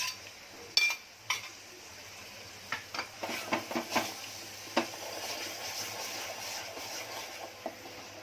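Spices roasting with salt in a pan for a prawn dish: a low sizzle runs under a string of sharp scraping and clinking strikes from stirring against the pan, irregular and fairly close, with no talking.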